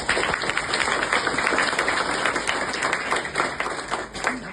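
An audience applauds at a success-story talk, a dense, continuous patter of many hands clapping for several seconds, fairly loud and close, with a few voices mixed in.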